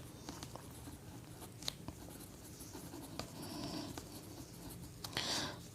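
A teacher writes math on a board during a Class 10 real numbers lesson, producing faint scratchy strokes and a few sharp taps over quiet room noise, with no speech.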